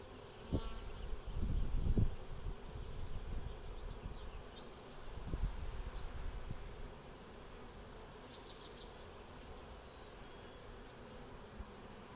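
Bees buzzing steadily around a hive, with a few louder close passes and low rustling thumps early on; a quieter hum continues through the rest.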